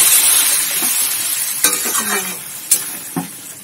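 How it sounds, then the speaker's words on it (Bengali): Potatoes, carrots and beetroot frying for winter vegetable khichuri as water goes in, a loud hiss that slowly eases, broken by a few sharp clinks of utensil on pot, close by. "ভেজে রাখা আলুগুলো দিয়ে দিলাম, গাজর, বিট সব দিয়ে দিলাম। আচ্ছা, কিছুটা জল দিয়ে দিলাম এর সঙ্গে।"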